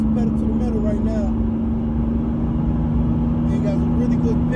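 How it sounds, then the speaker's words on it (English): A 1989 Chevy Celebrity four-door sedan accelerating at full throttle, its steady engine drone and road noise filling the cabin continuously, with faint chirps and someone talking over it at times. "I'm going to go ahead and put it pedal to the metal right now."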